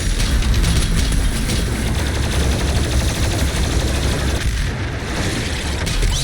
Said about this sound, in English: A plasma cannon actually does really good damage.